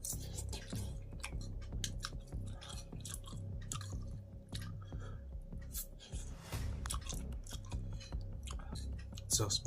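Close, wet chewing and crunching go on through the whole stretch as someone bites into and eats a bird eye chili with spicy Buldak noodles, with a few soft mouth noises between bites.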